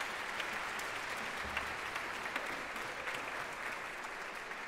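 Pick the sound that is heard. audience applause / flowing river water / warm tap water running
audience applause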